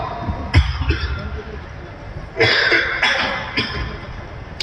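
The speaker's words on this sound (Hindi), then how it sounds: "थोड़ी खांसी तो परेशान कर रही है चुकी।" Several short, harsh coughs come in bursts, one early and a cluster of three later, against a quiet room background.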